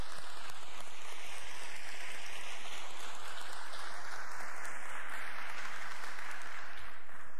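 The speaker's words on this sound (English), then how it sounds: "So I'd like to give them a round of applause." Dense applause from a crowd, a steady wash of clapping that holds at an even level throughout, with no voices over it.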